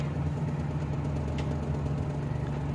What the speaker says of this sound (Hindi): इंजन जो है ना वो काफ़ी वाइब्रेट हो रहा है और मिसिंग कर रहा है।